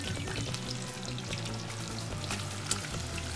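Potato fries cooking in hot oil give a steady, dense sizzle and crackle throughout, with a low hum underneath and a single brief clink near the end.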